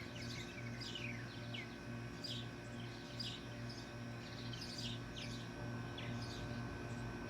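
Sparrows and purple martins chirp and twitter in quick, scattered calls over a constant low hum, fairly faint and at some distance, with no talking.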